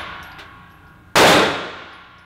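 A single sharp pistol shot on an outdoor firing range at a concealed-carry training class in Mesa, Arizona, a sudden loud crack with a ringing tail, preceded by faint distant pops.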